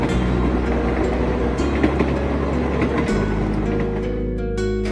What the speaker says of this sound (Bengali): নির্দিষ্ট দিনে সবাই মিলে হই হই করে চেপে বসলো রাতের ট্রেনে।